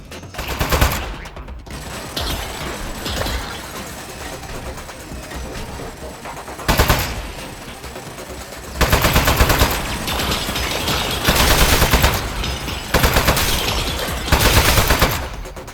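Repeated bursts of automatic turret gunfire in the video game Aperture Desk Job, loud rattling volleys separated by short gaps, with mechanical hum between them.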